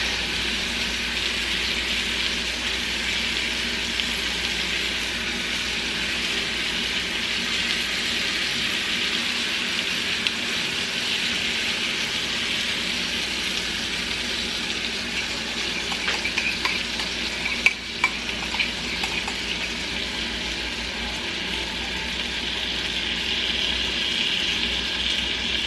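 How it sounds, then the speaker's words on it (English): Honey garlic sauce poured over boneless pork chops in a hot pan, giving a steady, close, even sizzle and frying hiss throughout with a few brief clinks, no talking. "And then you're just going to pour your"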